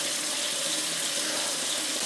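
A little water poured from a tap into a casserole pot, a steady, close, even rush of running water with no talk.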